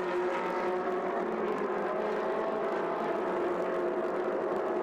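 Ferrari Challenge Europe Coppa Shell race cars at the Brno circuit in 2013 produce a steady, somewhat distant engine drone that holds evenly without a clear pass-by.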